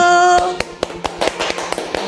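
Hand clapping starts after a sustained tone fades: a series of sharp, close claps at an uneven, irregular rhythm, about eight or nine in two seconds.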